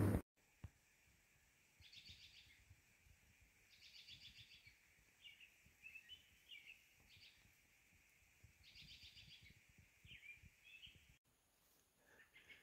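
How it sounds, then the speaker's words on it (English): Birds sing in the morning along a hiking trail, repeated faint trills and chirps coming in short phrases from a distance over quiet background, with no talking. "Did you hear those birds? That was really cool."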